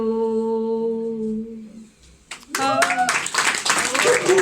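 Audience applause breaks out at a poetry gathering after a reading, starting abruptly midway and building into dense, sustained clapping; a voice is heard before it begins.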